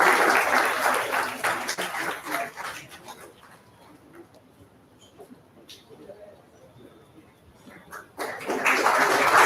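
Audience clapping at an AI conference event in Hyderabad, loud at the start, easing to a quieter stretch with scattered claps, then swelling loud again at the end; voices mix in.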